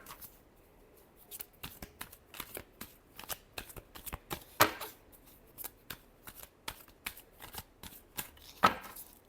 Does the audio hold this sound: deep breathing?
no